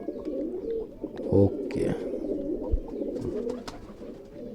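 Punjabi pigeons coo steadily in a loft, overlapping throaty calls filling the space, with a brief close thump or flap and a short spoken word.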